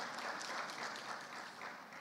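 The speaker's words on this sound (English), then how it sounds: "Yes, a round of applause." Audience applause in a plenary room at a youth energy summit, a dense, even burst of clapping from many hands that runs throughout without voices.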